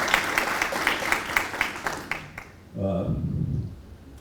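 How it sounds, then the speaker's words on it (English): Applause for event organisers, crisp hand clapping for about two seconds that stops abruptly, followed by a voice speaking alone afterward. "I think they deserve a round of applause for what they've"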